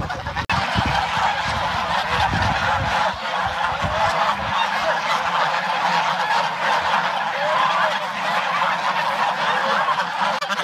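Geese at a mountain forest homestead in northeast China honk in a constant, crowded chorus near the listener, with some low thumps and handling noise early on and wind in the background.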